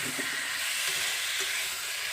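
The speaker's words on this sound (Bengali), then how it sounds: "এবার সব কিছু একসাথে মশলার সঙ্গে কষিয়ে নেব।" Fried potatoes, pointed gourd and ridge gourd are being sautéed with spices in a pan. A fairly soft, continuous sizzling hiss carries a few light stirring scrapes near the start and goes on without any voices.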